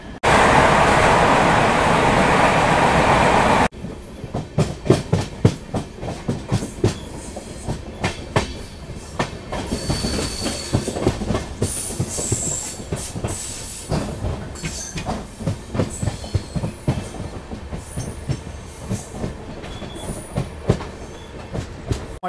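An express train runs from Murdeshwar to Kacheguda, heard from inside a sleeper-class coach. A few seconds of loud broadband rushing noise give way to a steady clickety-clack of wheels over rail joints, with scattered knocks and rattles.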